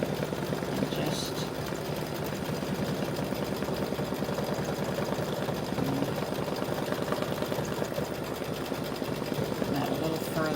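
An embroidery machine stitches a three-piece mug rug side panel, a steady, continuous mechanical whir with a rapid needle rhythm running throughout, with faint talk over it.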